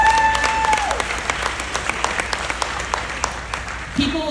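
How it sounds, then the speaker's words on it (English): Audience applause at a company leadership talk, a dense steady patter of many hands clapping close by for several seconds with a voice briefly heard over it. "Give yourselves a round of applause."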